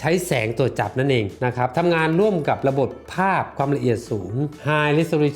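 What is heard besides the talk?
None of the usual background noises is heard.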